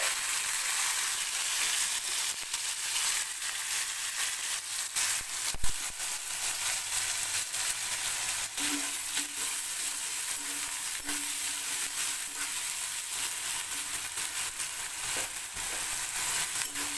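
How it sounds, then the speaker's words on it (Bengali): Chopped onions sizzle in hot oil in a wok after fish has been fried, a steady, close frying hiss lasting throughout, with no talking over it. "তেলেতে দিয়ে দিলাম পেঁয়াজ কুচি"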